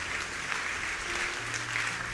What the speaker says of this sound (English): A round of applause for Jesus as they come.